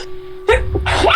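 A single sharp sneeze bursts out close and loud from a woman, abrupt and broadband, after a quiet moment, with a short follow-up burst trailing it.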